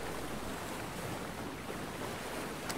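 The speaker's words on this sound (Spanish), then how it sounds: "En la cascada esta." A waterfall in the video game Alan Wake 2 gives a steady, faint broadband rush of falling water, continuous and unbroken throughout.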